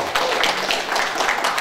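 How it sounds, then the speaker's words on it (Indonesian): A short burst of audience clapping in a classroom or group session, steady, dense and fairly loud, with many hands together. "tepuk tangan buat kita semuanya"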